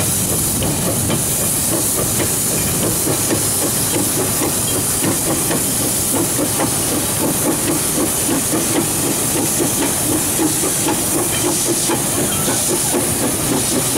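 A fireless steam locomotive at a sugar mill in Indonesia, Semboro, loudly hissing steam in a constant, close, roaring rush with a rough mechanical undertone, sustained without pause.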